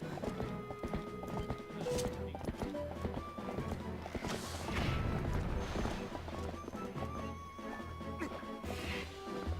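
Horse hooves clip-clop steadily in Zelda Twilight Princess, with a whinny and crashing impacts mixed into busy game sound, close and fairly loud throughout.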